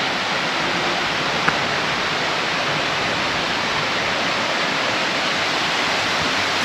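Small waterfall trickling from the top of a cliff at Mount Buffalo, Australia, giving a steady, even rush of falling water that holds constant throughout with no voices.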